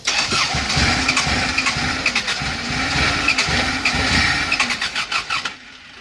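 A Mopar car engine cranks over and over while firing on only one cylinder, a loud, steady churning with uneven pulses that break into separate chugs before cutting off near the end. No voices are heard.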